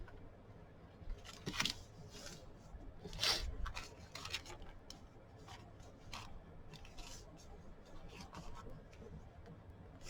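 Scissors cut sheets of lined notebook paper for a handmade journal, giving a few close, crisp snips and rustling paper handling, quiet and intermittent over several seconds.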